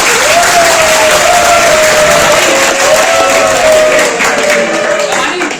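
An audience at a university chemistry seminar claps loudly and continuously for the presenters, a dense even patter with a faint tonal voice or whistle running through it.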